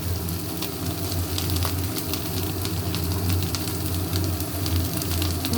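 Salt and turmeric hitting hot oil in a pan set off a steady, dense sizzle that runs throughout at moderate loudness, with no talking.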